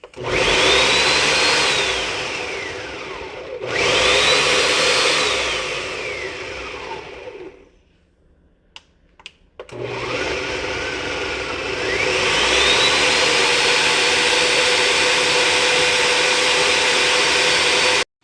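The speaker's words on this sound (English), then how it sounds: "Guys, we are pureeing those tomatoes" A blender purees tomatoes for a shahi paneer dish, running loud and steady with a high motor whine, stopping briefly once, then going quiet for about two seconds before starting up again and running on.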